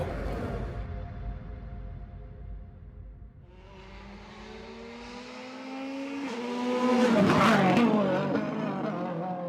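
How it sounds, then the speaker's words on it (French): Rally cars race flat out through a village lined with spectators on the Vosges rally: one engine's rising whine and gear changes builds to a loud, close pass, with crowd noise around it. "20 km mythiques où les voitures passent à fond dans des villages remplis de spectateurs"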